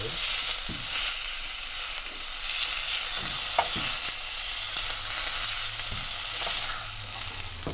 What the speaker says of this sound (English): Want the whole thing to be nicely seared, don't we?